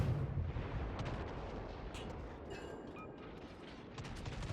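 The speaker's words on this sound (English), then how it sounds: "Skalzam has opened up with his guns here" Destroyer guns fire in a World of Warships ranked battle with a Leningrad, giving booming artillery-like blasts over a continuous rumbling battle backdrop.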